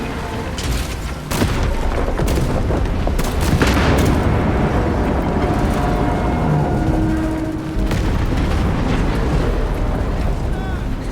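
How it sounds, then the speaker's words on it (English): Detonating charges in Warhammer 40k: Space Marine 2: a loud, sustained barrage of booming blasts and crackling impacts over dense rumble, with brief sharp bangs and a short dip near the end, game voices mixed in. "Hold. Give the hive beast a moment. Detonate the charges now. Kaboom."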